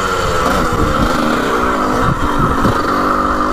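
A rare 1980 vintage racing dirt bike engine runs steadily in third gear, loud and close, with a continuous raspy two-stroke-style drone and slight throttle fluctuations throughout.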